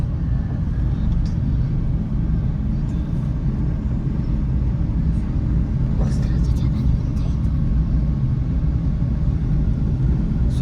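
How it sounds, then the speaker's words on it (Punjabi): A car rolls along slowly at low speed, its steady engine and road rumble filling the cabin with a constant low drone and only faint scattered clicks above it. "ਓਨਲੀ 7 ਤੋਂ ਲੈ ਕੇ 15 ਦੇ ਵਿੱਚ ਗੱਡੀ ਜਾਂਦੀ ਹੈ"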